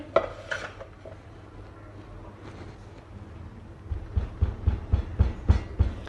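A pudding dish is tapped against a kitchen surface to level a sweet dessert, giving a quiet clink, then a run of rhythmic dull knocks in its last two seconds.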